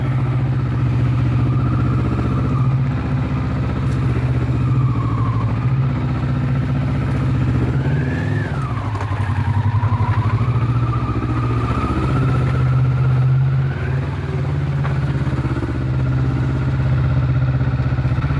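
A Kawasaki Vulcan cruiser motorcycle rumbles steadily on an evening ride, its low engine drone continuous and close, with small rises and falls in pitch as the throttle shifts and faint road clatter beneath.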